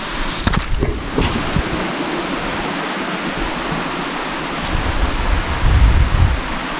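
Steady rushing water, like a stream or small waterfall, fills the whole stretch with a constant broadband roar and a few louder splashy moments.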